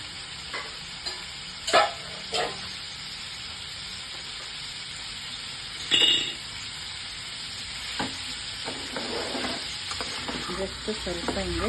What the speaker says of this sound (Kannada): ಈಗ ಇದು ಸ್ವಲ್ಪ ಎಣ್ಣೆಯಲ್ಲಿ ಶೆಲೋ ಫ್ರೈ ಮಾಡ್ಕೊಳ್ಳೋಣ